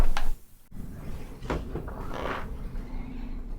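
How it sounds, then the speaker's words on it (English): A door at a shooting range entrance swings and closes with a few dull knocks and thuds, close by, over a steady indoor background hum. "be sure to close the first door before opening the range doors"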